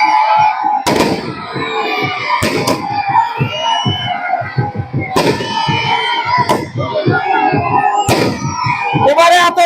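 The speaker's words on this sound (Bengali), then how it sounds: "এবারে আতশবাজি হচ্ছে" Fireworks crackle and burst at a night mini-bar football tournament final, with sharp repeated pops over a loud announcer's voice on a public address system and crowd noise.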